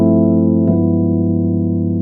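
A sustained jazz chord over a low G, its middle notes lowered a half step, rings out as one held voicing with a slight shift partway through, close and alone.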